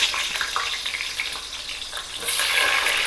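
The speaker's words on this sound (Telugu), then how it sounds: "దీంట్లో ఆయిల్ వేడైన తర్వాత ఆనియన్స్ వేసుకున్నాము." Onions hit hot oil in a pot for chicken biryani, giving a steady, close hiss and crackle of frying that swells louder toward the end before cutting off.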